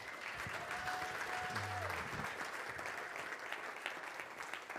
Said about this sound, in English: How about a loud round of applause?